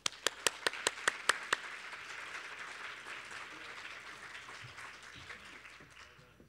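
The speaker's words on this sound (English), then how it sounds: "Let's give both of our inductees a final round of applause." An audience applauds inductees at a breakfast symposium, starting with several sharp, close claps and swelling into a soft, steady round of applause that fades out, with faint talking near the end.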